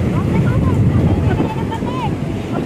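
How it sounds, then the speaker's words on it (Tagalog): Sea breeze at Bagasbas beach buffets the microphone in a steady, loud rumble of wind, with faint bird or child squeals and surf-like wash underneath. "Maganda yung simoy ng hangin"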